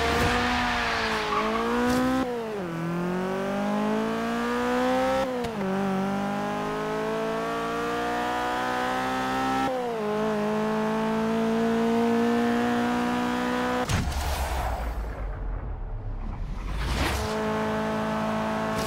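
A naturally aspirated car making a drag run in the Forza racing game, its engine revving up steadily through several gear shifts, loud and continuous, with a brief whooshing burst near the end.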